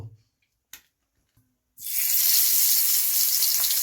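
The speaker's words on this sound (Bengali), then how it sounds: "আঁচটা কমিয়ে নিয়ে একটা একটা করে চিংড়ি মাছগুলোকে ভেজে নেব।" Prawns dropped one at a time into hot oil over a lowered flame for chingri malai curry: a few faint clicks, then a sudden loud hissing sizzle that holds steady to the end.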